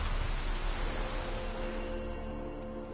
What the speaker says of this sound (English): it's drizzling